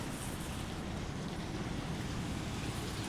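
Water pours steadily from a pipe into a half-full household storage tank, a continuous broadband rush and splash close to the microphone with no pauses.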